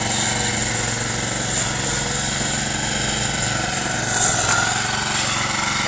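A homemade lawn mower cutting overgrown grass in a weedy patch runs with a loud, steady high-pitched engine drone that swells briefly near the end, close by and with no talk.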